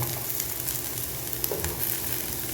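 Potato and carrot pieces sautéing in oil for a veg puffs filling give a steady, close sizzle and crackle with faint stirring scrapes. No one speaks.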